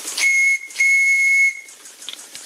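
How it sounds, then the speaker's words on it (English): Steam whistle on a custom steam engine, two clear high-pitched blasts, a short one and then a longer one, each with a hissing onset, heard close and with no talking. "Good horn, good whistle."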